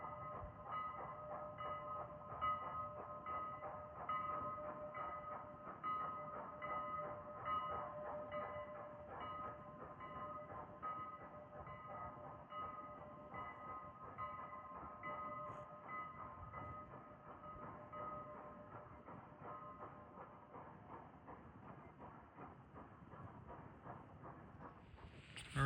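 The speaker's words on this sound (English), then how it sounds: "Here comes 89 back with the 11:30 departure out of Strasburg." A train on the Strasburg Railroad, a heritage steam line, passing steadily with a continuous rumble and rolling rail noise, loud and close throughout with no talk.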